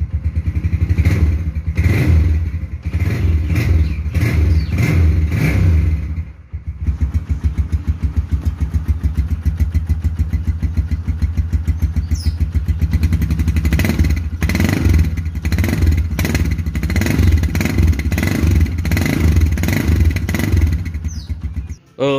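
A Yamaha Scorpio Z and a Honda Mega Pro are revved hard in turn, their engines loud and close with repeated throttle blips, a short drop to idle and a rough pulsing exhaust note, and nobody speaks.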